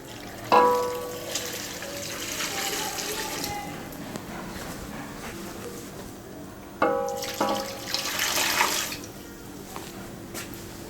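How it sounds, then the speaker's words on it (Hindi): Water is poured into a pot of beef paya (trotters) being cooked Lahori style with salt and turmeric, heard in two pouring bursts separated by a quieter stretch. "2 जग के करीब पानी जाएगा इसमें।"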